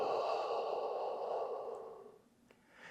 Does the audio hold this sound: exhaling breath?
yes